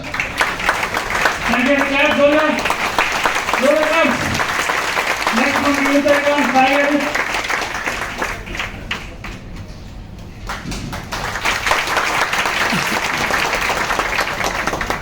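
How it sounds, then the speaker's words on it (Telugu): An audience claps at a gathering, bursts of applause washing through a hall. Someone speaks loudly over the clapping, and the crowd noise thins out toward the end. "నేను ఒక వ్యక్తి ఇక్కడికి వచ్చాను అనగానే చప్పట్లు పెట్టారు కదా"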